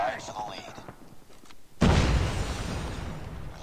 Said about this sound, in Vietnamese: Ném quả lựu đạn phát nhỉ.